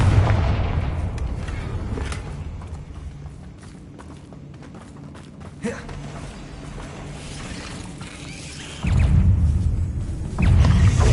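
A Confringo spell blast in the video game Hogwarts Legacy, heard as a rolling, booming explosive rumble over ongoing game sounds, with heavier bursts near the end.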